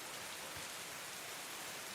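Steady rain sound effect behind a tabletop fantasy role-playing session set in a muddy battlefield, a soft, even wash of falling rain with no voices, continuous and fairly quiet throughout.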